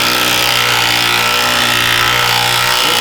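A power tool works at a seized Allen-key-style top nut on a Honda Fit strut during a coilover install, giving a loud, continuous grinding whir that runs steadily throughout with no talking.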